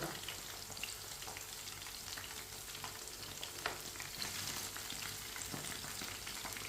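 Kebabs fry in a pan for an iftar snack, a steady broadband sizzle running throughout with occasional soft ticks and scrapes as they are turned from side to side; no voices.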